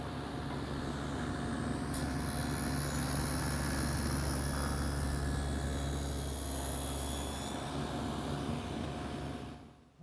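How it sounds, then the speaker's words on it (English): A router or power tool cuts a groove into the side of an oak workpiece for a drawer runner track, a steady, loud, continuous whine and drone lasting throughout before cutting off at the end. "the last groove that I have to make is in the side of each piece"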